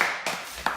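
A couple of sharp hand claps from an audience at a donation announcement during a political talk, close and brief, spaced about half a second apart.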